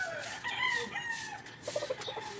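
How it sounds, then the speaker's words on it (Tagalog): Chickens cluck and call faintly in a backyard garden of tomato plants, a few short cackles and drawn-out calls at moderate distance, with no talk. "Aray po, tinuwak ako ng manok."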